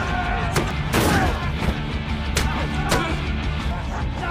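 Gunfire in a film scene as police open fire on a ruthless gangster gang, with several sharp shots and crashes bursting over a dense, loud action soundtrack.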